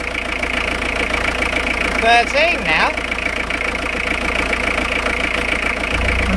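A motorhome engine idles steadily in the background with a low, even rumble while a person briefly speaks over it.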